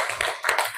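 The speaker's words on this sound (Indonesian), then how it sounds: "Oke, tepuk tangan dulu untuk" A classroom of students claps hands briefly, a few close uneven claps within under a second, with no talk over them.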